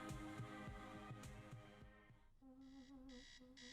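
A film scene from Half Nelson where an alarm clock sounds: a steady, repeating electronic beep pattern in pulsed bursts follows a stretch of music and rhythmic throbbing, loud and close.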